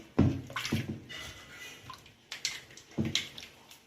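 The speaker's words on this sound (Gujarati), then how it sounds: "હવે આ ઠંડુ પાણી આપણે આમાં નાખવાનું ધોવા માટે." Cold water splashes over freshly churned homemade butter as it is washed by hand in a bowl, with several soft sloshing bursts and dripping between them, close and fairly quiet.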